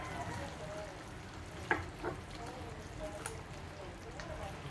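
Adobo sizzles in a pan while being stirred, a steady frying hiss broken by a few clicks and clacks of the utensil, heard up close with some talk.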